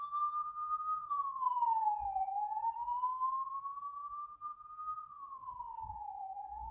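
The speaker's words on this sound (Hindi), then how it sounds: "पुलिस की गाड़ी जा रही है घर के बाहर से सायरन करती हुई" A police car siren wails outside a house as it passes, its single tone sweeping slowly up and down at moderate distance with nothing else heard.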